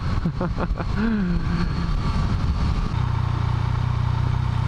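A Yamaha Niken three-wheeled motorcycle engine rumbles and clatters along over bumps, steady and close, with a brief rising whine early on and a low idling drone later.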